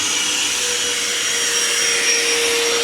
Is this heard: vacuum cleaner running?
yes